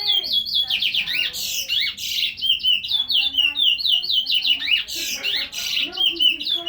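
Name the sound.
pet bird squawking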